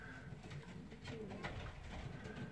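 Old Polish pigeons coo in a loft with a hen sitting on eggs and young birds nearby, soft low cooing repeating steadily under a constant murmur of other birds, with no speech.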